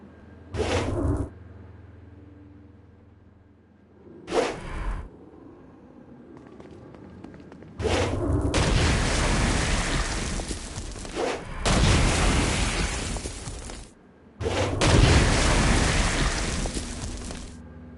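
Heavy blasting bursts from a Stone Blast attack on a flying demon in Saints Row: Gat Out of Hell, several loud booming hits separated by short pauses, close and forceful.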